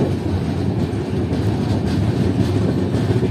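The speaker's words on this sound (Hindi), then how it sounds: "ये दोस्तों क्रॉसिंग नहीं हो रहा, अपनी ट्रेन ओवरटेक कर रही है टाटा थावे को।" A Vaishali Superfast Express passenger train runs at speed while overtaking another train, giving a continuous loud rumbling roar with faint wheel clatter, heard from on board with no voices.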